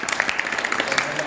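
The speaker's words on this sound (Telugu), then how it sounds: "let them clap" An audience at a youth Bible quiz gives a quick round of scattered hand clapping for a quiz group, a short burst of sharp claps at close range.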